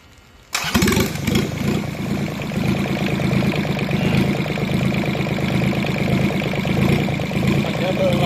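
A Yanmar 3TN66 three-cylinder diesel engine of about 14 horsepower, fitted with a water radiator, starts after a quiet half second and runs on steadily and loudly, with a dense rhythmic low chugging throughout.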